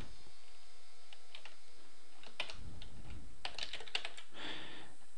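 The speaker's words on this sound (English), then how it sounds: "sorry, I can't type today for some reason." Typing on a computer keyboard while coding a web page, with scattered quiet key clicks that gather into short quick bursts near the end, close and soft, with no talk.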